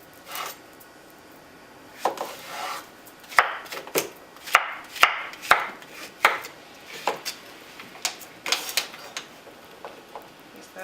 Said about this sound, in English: I'm going to quarter the zucchinis and just chop it into smaller pieces to go in the processor